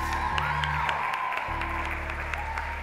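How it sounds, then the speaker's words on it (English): An audience applauds after a live performance of a cover, steady broadband clapping with a sustained tone and some background noise running underneath for about three seconds. "can we have one more round of applause"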